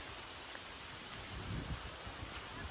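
Wind rushes steadily outdoors by the water on a rainy day, a constant broadband roar with gusty swells and no voices.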